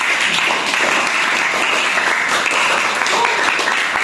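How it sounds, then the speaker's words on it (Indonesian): Students in a classroom clap together in dense, steady applause that fills the whole stretch at close range and full volume, with a little speech mixed in. "boleh kita tepuk tangan lagi untuk kalian semua"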